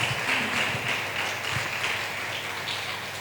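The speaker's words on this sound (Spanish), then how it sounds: "Un aplauso para el Señor" A church congregation applauds for the Lord during a worship service: a steady wash of clapping from many people, moderately loud and even throughout, with no clear voices over it.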